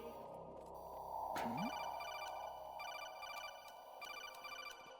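A telephone rings inside the video game Metal Gear Solid 2, a steady repeating electronic ring pattern over a continuous game ambience hum, fairly close and moderately loud.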